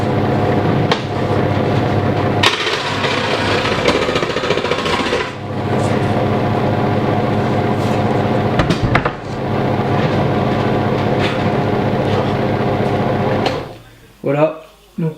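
A power cutting tool grinds loudly and continuously through a metal engine mount plate, with brief pauses and changes in pitch as the blade works, followed by a short stretch of speech near the end.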